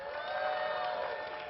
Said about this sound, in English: we're going to give a cheer for Roland and Jimmy